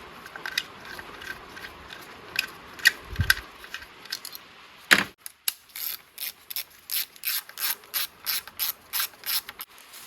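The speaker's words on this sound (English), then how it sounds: "So we just undo all three of these and we'll just pull all of them out" A ratchet undoes the small 10mm bolts on a Citroen C1 coil pack, first in scattered clicks, then in a quick, steady run of close, crisp ratcheting strokes.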